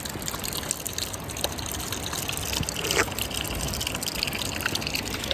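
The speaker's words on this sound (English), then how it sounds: "in the centre of town they have a wee fountain" Water gushing and splashing steadily from a small public drinking fountain in a town centre, a close, continuous bright spatter with no talking.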